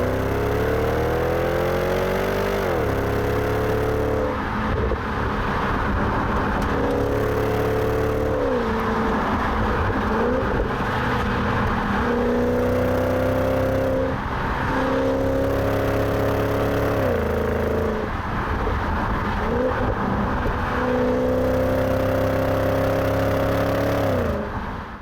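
A BMW 650i convertible accelerates hard. Its engine note climbs through several gears with quick drops at each shift, heard loud and steady from inside the car.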